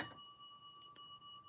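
Houghton elevator bell giving a single bright ding that rings on as steady sustained overtones, with a faint second tap partway through, heard alone and fairly quietly.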